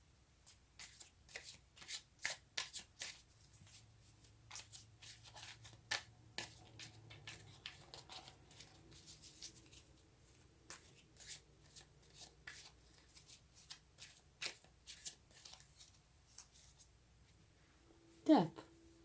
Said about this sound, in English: let's get a few cards for November.